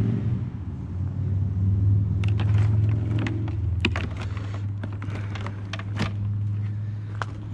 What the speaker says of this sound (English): Hear that motorcycle?